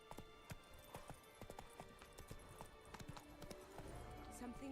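Hoofbeats of the horse Roach in the game Witcher 3: Blood & Wine, a steady rhythmic clip-clop of trotting hooves over a low ambient bed, faint and continuous.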